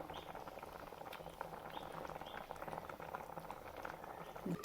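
Egg curry with tamarind water bubbles and simmers steadily in a pot, a constant close, moderate boil of small popping bubbles with no voices.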